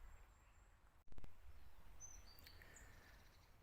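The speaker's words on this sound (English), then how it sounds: "You can really hear the birds." Faint, scattered bird chirps and short high calls over a quiet outdoor countryside background in Cornwall, with a brief knock near the start.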